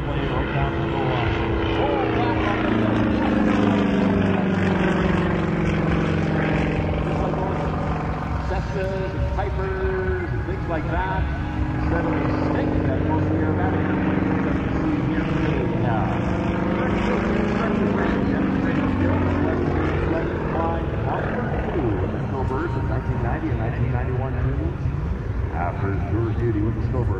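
A Yak-18T propeller airplane flies aerobatics at an air show, its engine a steady, loud drone with slowly shifting pitch as it rolls and passes. An announcer talks over it throughout.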